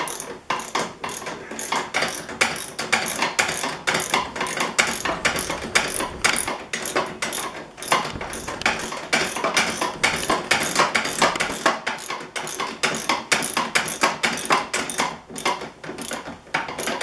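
Ratchet tightening the rear A-arm brace bolts of a Grip N Rip Racing upper rear A-arm and suspension module brace kit, a fast continuous clicking that is loud and close throughout, with no voices.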